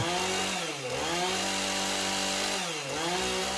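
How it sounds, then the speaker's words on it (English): A chainsaw runs loud and close, its engine revving up and dipping twice in a steady rising-and-falling drone with no talk over it. "I think I hear a chainsaw. vroom vroom."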